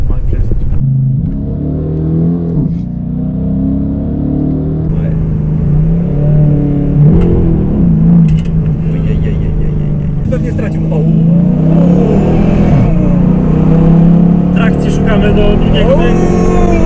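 A Dodge Challenger working as an Uber car accelerates hard, its loud engine roar rising and falling through gear changes for the whole stretch while passengers talk over it inside the cabin.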